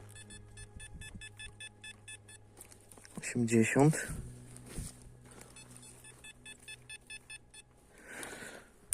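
A metal detector emits rapid, regular electronic beeps that change as it sweeps over a target, with a brief burst of talk and rustling in the middle.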